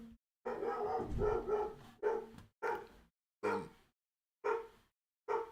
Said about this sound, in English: If you can hear the dog in the background